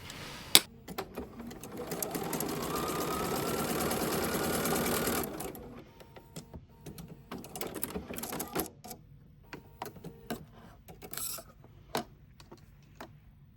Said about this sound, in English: we're actually going to sew on the line that we drew this time